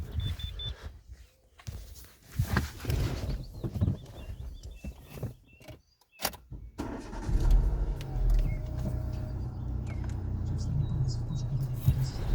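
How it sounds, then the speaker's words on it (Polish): A 1.6 16v Renault Megane engine idles steadily in the second half, a low continuous rumble following earlier rustling and handling noises near the car, with no talk over it. "Silniczek chodzi wzorowo, nie ma żadnych wycieków, żadnych problemów."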